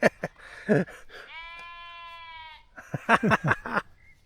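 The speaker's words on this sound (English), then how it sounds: "They're sheep down there." A single long, wavering sheep bleat rings out clearly between bursts of nearby talking.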